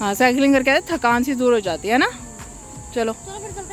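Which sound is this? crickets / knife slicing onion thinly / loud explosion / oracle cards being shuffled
crickets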